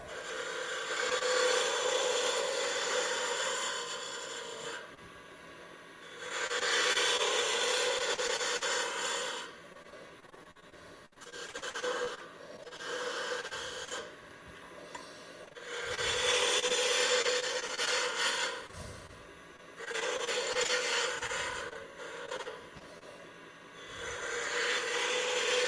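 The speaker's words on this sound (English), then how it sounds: "And I'm basically scraping this at this point." Bowl gouge scraping a wooden ladle turning on a lathe, in bursts of rough rasping separated by pauses, close and moderately loud, at a woodturners' club meeting.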